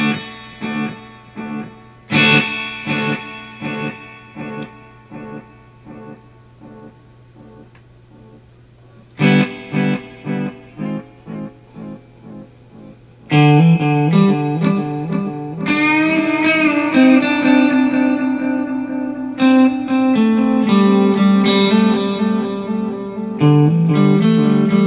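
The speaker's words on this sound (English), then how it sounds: "A Fender tape echo." Electric guitar played through a Fender tape echo rack unit and a Teisco Interface multi-effect pedal, loud picked notes and chords ringing out with repeating echoes, starting sparse then building into busier, denser phrases.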